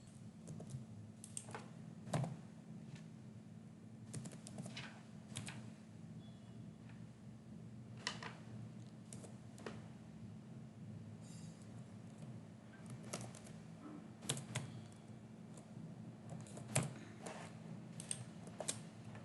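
Computer keyboard typing while writing code, quiet irregular key clicks in scattered bursts over a low steady hum, with no talking.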